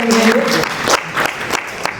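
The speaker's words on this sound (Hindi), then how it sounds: "सभी लोग जोरदार तालियों से स्वागत करें" Applause from the audience at a mushaira poetry gathering in Lucknow, uneven bursts of clapping with a voice speaking over the start, brief and choppy rather than a sustained ovation.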